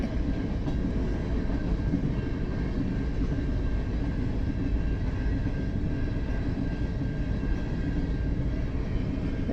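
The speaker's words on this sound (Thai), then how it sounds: "ที่นี่แคนาดานะคะ ดูค่ะ รถไฟยาวที่สุดในโลกค่ะ" A very long freight train rolling past in Canada, a steady rumbling roar of wheels and wagons that stays even and continuous throughout, heard from moderately far.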